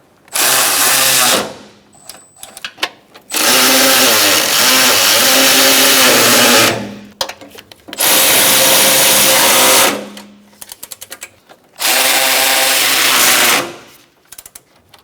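A power tool whirs in four long sustained bursts, each lasting a few seconds with short gaps of clicks and handling between, snugging bolts on the bumper impact absorber of a 2012–2018 Ford Focus, loud and close.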